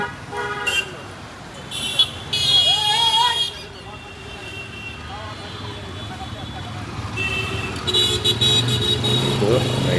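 A Honda CG125 motorcycle passes nearby amid busy road traffic, with car horns tooting and engine noise rising and fading.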